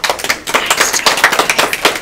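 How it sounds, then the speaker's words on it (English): A small audience at a read-aloud event claps rapidly and unevenly, a brisk burst of applause close by that carries on steadily for a couple of seconds. "Round of applause, please."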